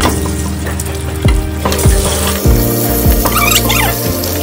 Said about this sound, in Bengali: আগে ডিমগুলো ভেজে নিচ্ছি